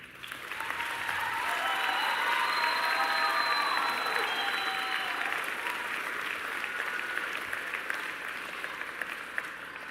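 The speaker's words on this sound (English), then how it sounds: "Graduates, please take a moment and thank them with your applause." Graduates at a commencement ceremony applaud their families and supporters, a broad wash of crowd clapping that swells quickly and carries on steadily for several seconds.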